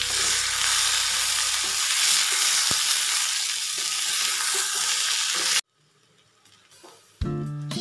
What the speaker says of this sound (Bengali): এবার আলু ভাজার মধ্যে দিয়ে দিলাম বিউলির ডাল